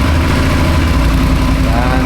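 A large adventure touring motorcycle's engine running at a steady, close idle, with a continuous low rumble throughout the short stretch and no talk.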